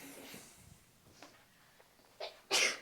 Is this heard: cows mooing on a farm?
no